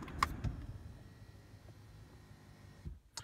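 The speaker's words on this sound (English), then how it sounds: "The seat pulled back so I can get out." A 2019 Ford Fusion SEL power seat motors backward once the car is switched off, a faint, steady electric whir inside the quiet cabin after a couple of soft clicks, ending with a small thump.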